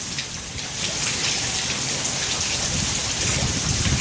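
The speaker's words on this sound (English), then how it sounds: "Now this isn't a severe thunderstorm, this is a thunder shower." Steady rain on surfaces during a mild thunder shower, the first thunderstorm of the season, with a continuous dense hiss of falling drops throughout and no distinct thunder crack standing out.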